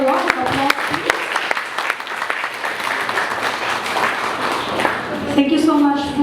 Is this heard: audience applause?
yes